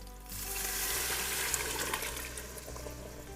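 Garlic and vegetables frying in a pot, a loud steady sizzle with spitting crackles close by and no talk.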